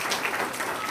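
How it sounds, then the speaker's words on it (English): Applause for honorees fills a family reunion banquet hall, a dense, steady wash of many hands clapping throughout the brief moment. "Let's give them another round of applause."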